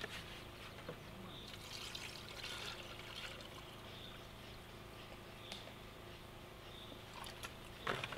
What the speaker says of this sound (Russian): Нальем в чайник воды из-под обратного осмоса.